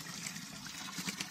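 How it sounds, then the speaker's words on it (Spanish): Water runs steadily from a stone fountain spout on the Camino de Santiago near Cruz de Ferro, a faint continuous trickle and splash heard at a distance. "Fijaos qué pedazo de caño de agua"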